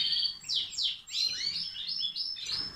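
European goldfinch in a breeding aviary chirping and twittering continuously, bright rapid high chirps close to the microphone with no talk.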